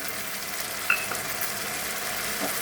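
A paste of ground onion, chili, cumin and ginger fries steadily in a pan with a soft, even sizzle, broken by one brief sharper tick near the middle.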